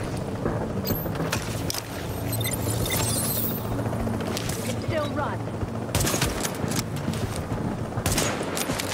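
Gunfire in the video game The Division during a fight against a sniper, with repeated bursts of automatic fire and crackling shots nearby, heard under a voice talking.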